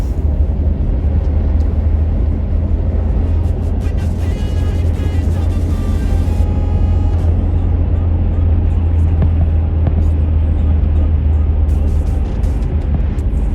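A 1986 Toyota 4Runner 4x4 drives through a snow storm on the road from Oregon toward Southern California, giving a steady, loud low engine and road rumble with wind noise throughout and no clear talk.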